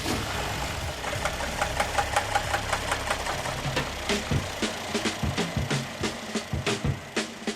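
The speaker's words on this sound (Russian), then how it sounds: "Слышали, застучали ваносы." A Mercedes M276 engine in a W222 body runs with faulty, knocking camshaft adjusters, giving a steady rhythmic tapping clatter over the engine's hum, close and clear with no talk.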